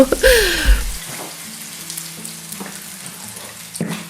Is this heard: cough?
no